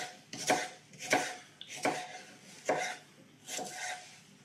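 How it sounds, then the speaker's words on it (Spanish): A knife slicing lengthwise cuts into an onion on a cutting board, five or six crisp, close strokes at an even rhythm with short pauses between, no talking. "la pondremos sobre la tabla y le vamos a hacer unos cortes a lo largo"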